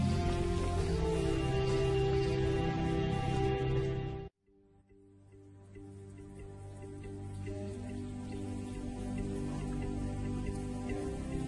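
Steady rainfall patters densely, cuts out briefly, then returns softer and gradually builds back to a full, even downpour.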